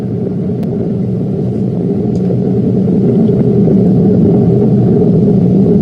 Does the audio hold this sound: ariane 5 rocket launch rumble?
yes